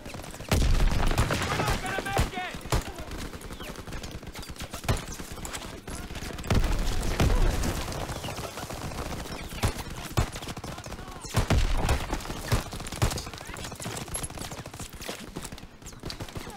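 Rapid bursts of gunfire from the World War II video game Call of Duty: WWII, dense volleys and scattered shots repeating loudly throughout with no voices.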